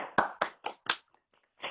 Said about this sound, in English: give another round of applause to Naomi Miki